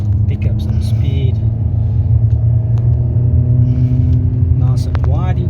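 A car accelerates in second gear on a tyre test track, its engine rumble building steadily and loud beneath someone talking, with brief squeaky tyre or interior sounds near the end.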